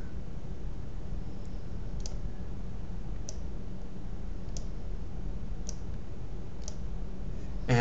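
A computer mouse clicks while working on a PowerPoint slide, giving about seven faint, sharp single clicks spaced roughly a second apart over a quiet background hum.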